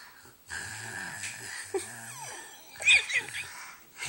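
A child imitates snoring with a voice, giving long, wheezy, rasping breaths that repeat a few times close up, ending with higher squeaky snorts.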